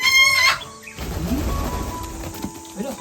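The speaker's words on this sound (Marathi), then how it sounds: "कोंबडी कोंबडी आली" A chicken clucks in short bursts outdoors in a Konkan village, with scattered background noise and rustling between calls.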